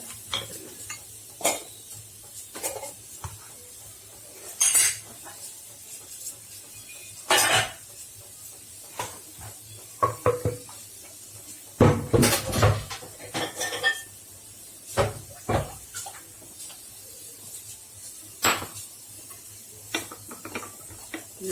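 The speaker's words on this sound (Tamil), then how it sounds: "இது பவுலுக்கு மாற்றிக்கிறேன் பொரியலை" Spoon scraping and stirring vegetable poriyal stir-fry from a pan into a bowl with the stove off, giving a series of irregular close clinks and scrapes with pauses between them and no talking.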